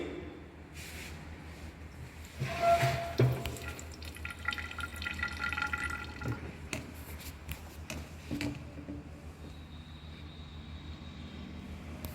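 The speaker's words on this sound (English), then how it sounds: "Now, remove the water from this tube." Water trickles and drips steadily as it drains from a resonance tube, with a brief clatter of handling early on, close and moderately loud.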